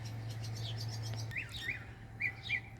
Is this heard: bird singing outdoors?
yes